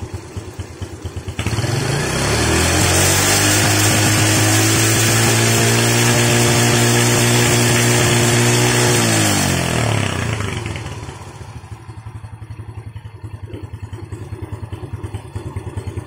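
A Yamaha Vega R motorcycle with a faulty stock regulator-rectifier revs hard, its engine climbing to a loud, sustained high-rpm roar for several seconds before dropping back to a steady idle.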